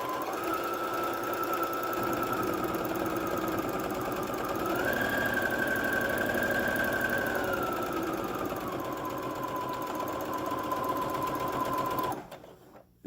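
A sewing machine stitching a 3/8 seam with backstitching on a three-layer fabric face mask, running loud and close in one steady whirring stretch, its pitch rising slightly midway, before stopping abruptly at the end.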